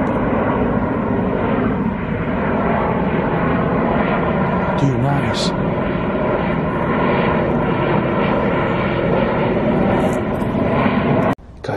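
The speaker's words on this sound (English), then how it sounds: "Look, here there he is, guys, a freaking plane." A fixed-wing airplane flies low overhead near an abandoned train station at night, its engine a loud, steady roar filling the whole stretch, while a voice speaks briefly over it.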